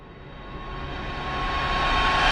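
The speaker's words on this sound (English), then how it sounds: "Reverse riser." A reverse riser sound effect: a breathy, airy swell that builds steadily in loudness and brightness, then cuts off abruptly at its peak.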